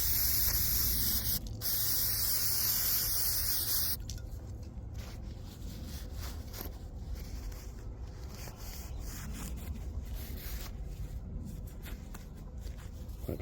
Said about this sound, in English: We'll just give it a good spray.